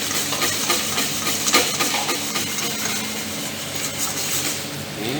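Milk for crème brûlée starts to boil in a pot, giving a steady close hiss and bubbling simmer with small irregular pops throughout.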